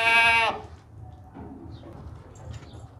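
A heavy, tall, long-bodied dairy goat on a farm gives one loud, drawn-out bleat at the start, then low rustling and farmyard background follow without further calls.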